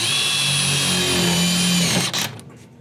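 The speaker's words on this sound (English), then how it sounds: "being able to have a different setting on the back of this tool to set this in and be able to drive these fasteners with ease" A Milwaukee M12 FUEL driver whines at high speed as it drives a self-tapping screw, loud and close, then cuts off abruptly after about two seconds and leaves a short rattle.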